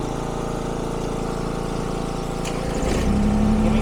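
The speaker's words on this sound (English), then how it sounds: "start back up the tractor, flatten them out with the wheels" A Kubota BX23S sub-compact tractor engine runs with a steady, close diesel drone and a rhythmic throb, rising slightly in loudness near the end with a faint whine appearing.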